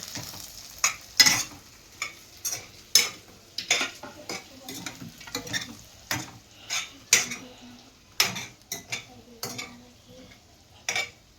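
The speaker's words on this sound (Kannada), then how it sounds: "ಈಗ ಚೆನ್ನಾಗಿ ಮಿಕ್ಸ್ ಮಾಡ್ಕೊರಿ." Egg rice being stirred and mixed in a pan, dhaba-style, with repeated scraping clinks of a spoon against metal in an uneven rhythm over a soft sizzle, close and fairly loud.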